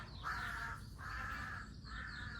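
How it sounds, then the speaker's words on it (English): A crow gives three harsh, drawn-out caws in steady succession, fairly close and loud over a low outdoor rumble, with no voices. "That crow's annoying."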